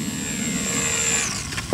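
A small Flyzone Fokker D.VII micro electric RC plane motor gives a steady thin high whine throughout, at moderate distance, that shifts slightly in pitch near the end.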